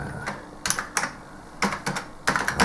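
Typing on a ZX Spectrum keyboard, irregular close clusters of plasticky key presses with brief pauses between bursts.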